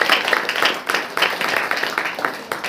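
A church congregation claps hands together in a dense, continuous burst of applause-like clapping, fairly close and loud, with a brief dip before the clapping resumes.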